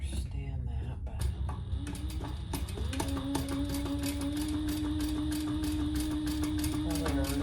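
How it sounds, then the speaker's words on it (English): Sewing machine topstitching the pin pockets of a hobo shoulder bag, a close rapid mechanical whirr running steadily after a few short starts, with a hum underneath. "let's just top stitch the pin pockets only"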